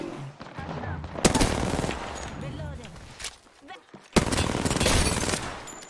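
Gunfire from a charge rifle and other weapons in an Apex Legends match, loud bursts and rapid volleys that come in two dense stretches, with a player talking over the shooting.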